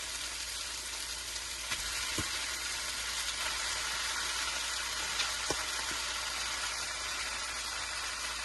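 Steady loud sizzle of noodles and vegetables stir-frying in a hot wok for street-style veg chowmein, with a few faint clicks of the utensil against the pan.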